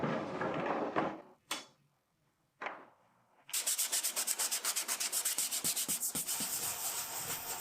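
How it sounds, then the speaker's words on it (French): Scraping and sanding of a wooden cabinet door during a cocktail cabinet restoration: a few isolated scrapes with pauses, then a steady run of close, rhythmic back-and-forth abrasive strokes. "Après grattage et ponçage,"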